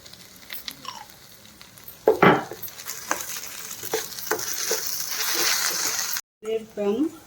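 Baby corn Manchurian with soy sauce frying and being stirred in a pan, steady sizzle with scraping strokes and a couple of sharper clatters, a voice speaking briefly near the end.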